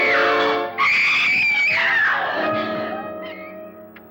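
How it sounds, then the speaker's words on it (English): A shrill scream rings out from a 1954 film, The Fast and the Furious, one long wavering cry that rises, breaks briefly, then resumes and fades away over a quiet background. "I guess nobody heard that scream."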